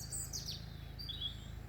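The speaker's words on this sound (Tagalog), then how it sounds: "Mga ibon naman ang naririnig ko kasi." Birds chirp outdoors in short, high tweets scattered across a quiet background, faint and distant over a low steady hum.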